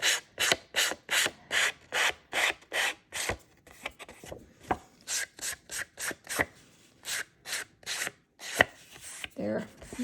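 An emery board rasps back and forth along the frayed edge of a paper card, a rapid series of short, close scratchy strokes in steady rhythm with brief pauses between runs.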